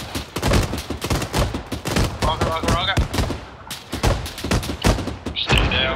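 Heavy, repeated gunfire and thudding impacts in a military video game, with shots aimed at a target about 350 meters away, loud and continuous with bursts throughout and faint voices under the firing.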